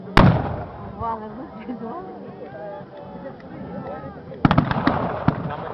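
A loud boom of cannon fire opens, followed by a person speaking, then a cluster of sharp cracking musket shots and volleys near the end, heard in the distance, in a portrayal of the Battle of Berestechko.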